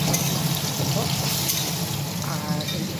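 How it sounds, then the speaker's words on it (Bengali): Cabbage and potatoes frying in a pan, heard as a loud, close, continuous sizzle with a faint scrape of stirring running steadily throughout. "এইটা ছিঁড়ে হচ্ছে বাঁধাকপি আলু ভাজা একটু বসিয়ে দিয়েছি"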